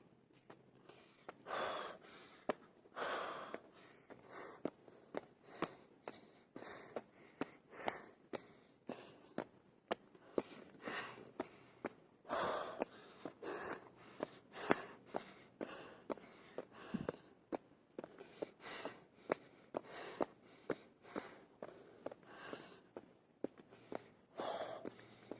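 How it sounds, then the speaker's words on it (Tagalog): Heavy, rhythmic panting from someone on a morning exercise walk along a bamboo forest path in Taiwan. Steady close breaths and snorts repeat alongside footsteps for the whole stretch. "Hinihingal na ako guys"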